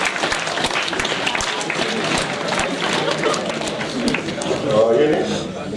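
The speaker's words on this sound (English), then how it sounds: "Give a big clap. Long clap." Audience applause at a development dialogue event, sustained dense clapping from a crowd that carries steadily for several seconds, loud and continuous with a slight swell near the end.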